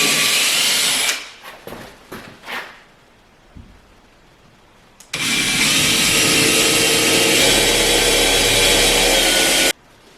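A power tool whirs as it drives screws into a wall to mount a coat rack, a brief stuttering burst of short pulses followed by a long, loud continuous whine that stops abruptly.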